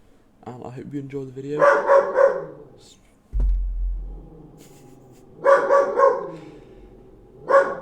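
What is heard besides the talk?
dog barking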